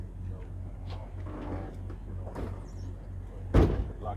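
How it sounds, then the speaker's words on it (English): A truck hood slams shut during a pre-trip inspection, making one loud, close thud near the end after a low idling rumble and scattered handling noises. "Now we're going to close the hood, jump in,"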